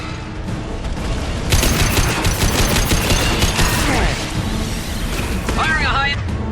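Heavy weapon fire in the sci-fi shooter Mass Effect 2, a loud, dense barrage of rapid shots and booming impacts with rumbling debris, tapering into whooshing sweeps near the end.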